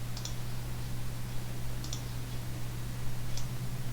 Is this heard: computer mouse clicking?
yes